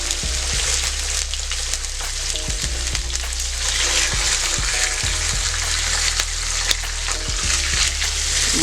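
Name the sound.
salmon frying in olive oil in a pan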